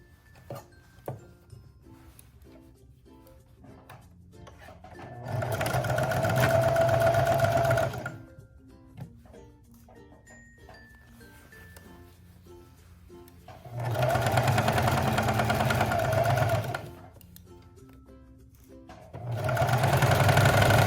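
A sewing machine stitches a dress side seam in three loud, steady whirring runs of a few seconds each, separated by quieter pauses with small clicks and handling of fabric.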